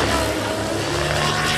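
Chronos 700 RC helicopter flying aggressive 3D maneuvers at an RC meeting in Damelang, Germany, a loud constant rotor and motor drone with steady tonal whine, close and unbroken for under two seconds.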